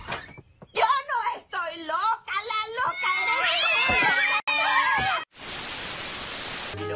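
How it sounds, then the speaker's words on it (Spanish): Playing kittens mewing in a busy jumble of high, wavering cries, with a burst of hissing noise near the end. "se pueden ver estos gatitos hermosos como juegan"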